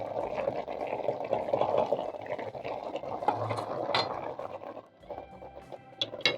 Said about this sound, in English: Cover and simmer for 3 more minutes.